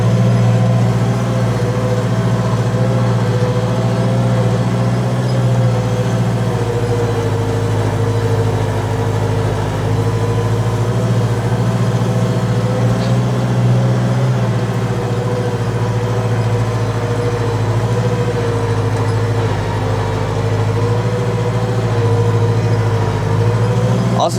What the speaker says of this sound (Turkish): 110'luk elimizdeki traktör.